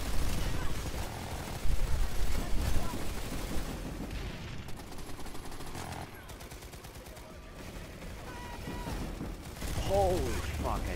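Gunfire and a C4 explosion in Planetside 2 on PS4, dense rattling automatic shots and impacts running throughout, with a louder burst near the start and another swell at the end.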